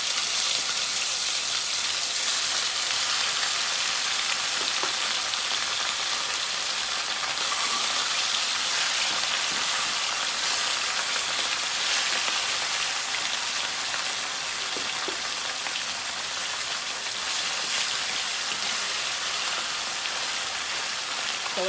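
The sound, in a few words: fish frying in hot oil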